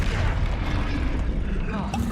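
A Bombarda spell explosion in the video game Hogwarts Legacy, a heavy booming blast with rumbling low end through most of the clip and a short sharp crack near the end, with a voice talking over it.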